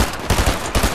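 Rapid, loud bursts of automatic gunfire from a video game, shots aimed at a rock, come in several close, punchy volleys separated by split-second gaps.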